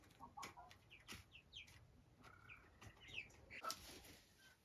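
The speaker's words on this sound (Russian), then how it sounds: "Там цыплята амираукана," Araucana chicks in a greenhouse give faint, scattered peeps and soft clucks, a few short chirps spaced irregularly over quiet background.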